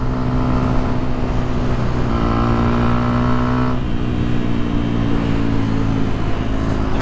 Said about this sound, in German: hat jetzt eine Leo Winz Komplettanlage an und die hört sich schon geil an